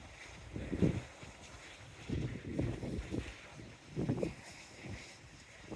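Wind gusting on a seafront, rumbling buffets in irregular bursts of roughly a second each, loud against the microphone over a faint steady background.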